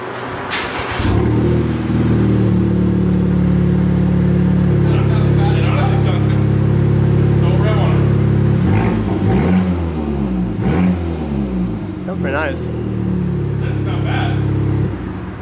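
Engine of a 2019 Honda Civic Type R with a six-speed manual and an Invidia Q300 exhaust, holding a loud, steady drone, then revving in several rising and falling sweeps near the end, heard up close.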